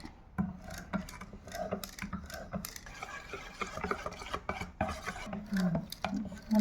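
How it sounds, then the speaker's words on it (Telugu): Four eggs being beaten one at a time into chocolate birthday cake batter in a bowl, heard as close, uneven scraping and clinking of a utensil against the bowl, with soft irregular knocks throughout and no talking. "నాలుగు ఎగ్గులు మంచిగా మిక్స్ చేసుకోవాలి"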